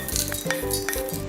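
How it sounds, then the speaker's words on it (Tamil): Roasted chana dal tipped and scraped from a pan into a mixer jar with a metal spoon, a handful of light clinks and scrapes, close and fairly quiet, with no talking. "இதை நம்ம ஜாருக்கு மாற்றிடலாம்."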